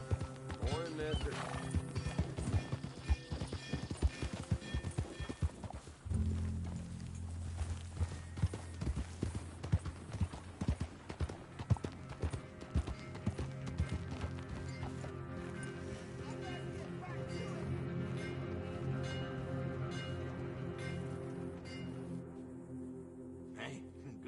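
Horse hooves clip-clop in Red Dead gameplay, a steady irregular patter of footfalls with occasional whinnies under a layer of ambient game sound and spoken dialogue.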